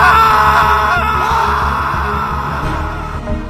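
A horrified father lets out an anguished, drawn-out scream in a horror story scene, loud and wailing over a dark, droning background that slowly fades.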